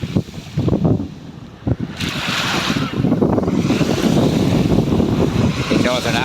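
Atlantic Ocean surf rolls onto a beach at Puerto del Rosario, Fuerteventura, in the Canary Islands, with a steady wash of waves and heavy wind buffeting the microphone, loud and close.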